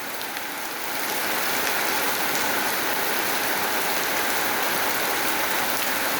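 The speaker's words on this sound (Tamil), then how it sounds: "கோவில் குஞ்சுக்குளம் மழை பெய்து கொண்டு இருக்குது." Rain falls over a temple pond in a dense, steady patter that swells after the first second and holds as an even hiss of drops striking the water and nearby surfaces.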